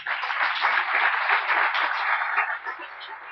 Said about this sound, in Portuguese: Você pode aplaudir o Senhor, igreja?